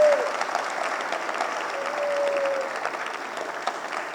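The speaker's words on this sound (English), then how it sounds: "Give me a big round of applause." A seminar audience of students claps steadily in a continuous, fairly loud wash of applause that holds for the whole span, with a faint tonal trace drifting through it.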